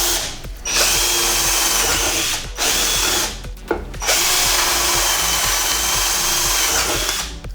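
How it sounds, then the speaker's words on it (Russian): A Firecore FED-21A cordless drill with a freebie drill bit whines loudly as it bores into material, with its motor briefly stopping twice before spinning up again; no talking. "посмотрим, сверлят ли сверла, которые приходят в подарок"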